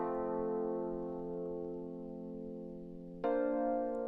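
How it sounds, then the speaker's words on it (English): A sustained piano tone with rich harmonics holds steady, then a new chord is struck near the end, slightly louder, with no talking. "Then we have this piano that's supposed to match like the original sample."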